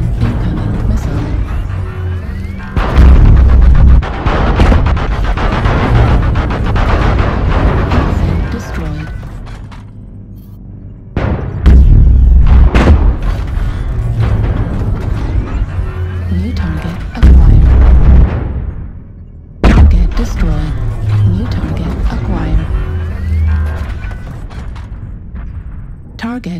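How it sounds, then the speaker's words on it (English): Artillery strike explosions in MechWarrior Online, a barrage of heavy booming blasts and mechanical rumbling arriving in several long, loud bursts separated by short lulls, with spoken voices over the combat. "Artillery strike online."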